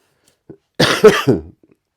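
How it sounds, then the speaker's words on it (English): A short burst of harsh, close coughing, two or three rough hacks in quick succession, with no talking. "Sorry about the coughing, but I can't help it."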